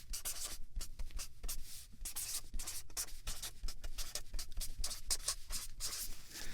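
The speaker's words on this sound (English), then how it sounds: "I'm going to write down the principles for student success." Pen or pencil writing by hand on a lap board, a steady run of scratchy strokes with short pauses between words, close and alone without talk.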